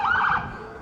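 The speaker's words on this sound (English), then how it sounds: "an ambulance coming through" An ambulance siren rings out in a street in Blackpool during a protest. The wail is fairly loud for its first half, then dips a little as it carries on, with no talk over it.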